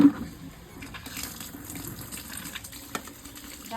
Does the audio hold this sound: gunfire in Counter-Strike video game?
no